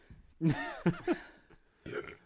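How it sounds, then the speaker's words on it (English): A man burps close to the mic, a few short, throaty voiced bursts with brief pauses between them. "There's going to be a burp."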